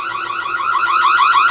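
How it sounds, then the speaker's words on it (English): A loud, continuous electronic siren from an AbeTap X83 security camera wails up and down in pitch, close and steady, with no voices. "Audible alarm."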